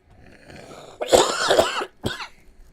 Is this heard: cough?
yes